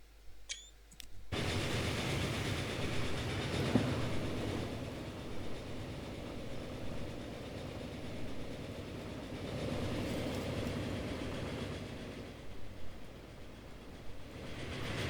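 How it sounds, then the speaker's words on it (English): Flying Scotsman steam train running in Transport Fever 2, a steady rolling rail rumble with faint clickety-clack that holds loud and continuous throughout, after a brief quiet start. "we got the Flying Scotsman, kind of"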